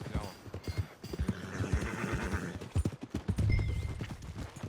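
Horse hooves clip-clop in a steady rhythm at close range in Red Dead Redemption 2, with muffled ambient sounds and a faint voice in the background.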